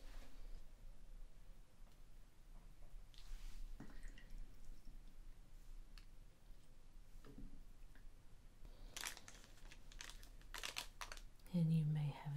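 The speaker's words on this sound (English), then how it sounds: "adding, two full triangle cups of water to this tray here" Water poured into the small plastic tray of a Kracie Popin mini candy kit, heard as soft close drips and trickles in a quiet setting, with a brief louder splash near the end.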